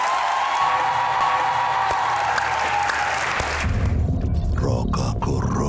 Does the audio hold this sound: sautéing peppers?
no